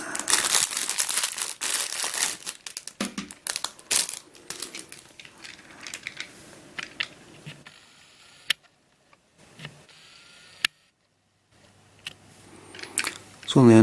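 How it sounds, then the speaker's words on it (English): Plastic packaging on two eBay puzzles is torn open, with repeated loud crinkling and crumpling in bursts and brief pauses between them. "I've ripped the packaging a bit."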